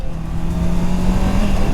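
A 2021 Honda CBR 650 R four-cylinder motorcycle engine revs close up, a loud steady drone with a sustained whining tone that climbs slightly, heard alone without talk.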